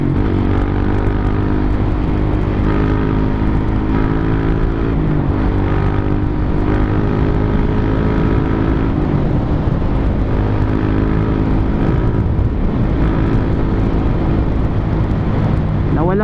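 A big bike motorcycle engine, freshly changed to new engine oil, runs steadily at close range, its low rumbling hum holding constant for the whole stretch with slight shifts in pitch and no talking over it.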